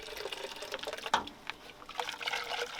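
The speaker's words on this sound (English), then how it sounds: "Need to rinse out my shake thing. So, just a little bit of water right there." Water from a sink tap splashes and trickles into a plastic protein shaker bottle being rinsed after lunch, a steady close-up pour with a brief sharper splash partway through.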